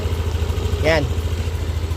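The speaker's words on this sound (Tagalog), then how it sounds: "So ito yung tunog ng makina ngayon mga boss." A repaired scooter engine idles with a steady, low rhythmic putter, while someone says a single word over it.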